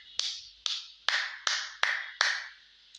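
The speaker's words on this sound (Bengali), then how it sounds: "সাকিব ভাইয়ের জন্য হাততালি হবে" Six slow, evenly spaced hand claps in tribute to cricketer Shakib Al Hasan ring out sharply, each with a short echoing tail, and no voices come between them.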